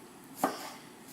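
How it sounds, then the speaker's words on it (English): A knife slices lengthwise through a cucumber on a cutting board in a single crisp, close chop, set against quiet room tone. "So just kind of slice them lengthwise"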